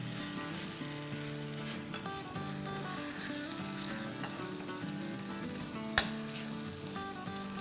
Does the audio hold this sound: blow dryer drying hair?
no